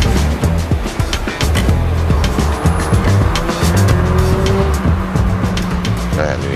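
A car driving on a road in America, steady engine and road rumble with a brief tire squeal, loud and close, while people talk over it.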